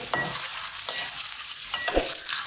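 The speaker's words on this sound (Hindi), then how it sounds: "चार अंडे इनको थोड़ा सा फ्राई कर लेंगे" Four eggs fry in a pan for an egg and cauliflower curry, giving a steady close sizzle throughout with a few scraping stirs of a utensil.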